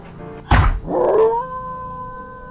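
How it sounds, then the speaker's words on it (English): After a heavy thud, a dog lets out a long, loud howl in a horror game, the cry rising and then settling into a sustained tone that trails away, heard alone. "The screen goes black, and all we hear is the howl of a dog."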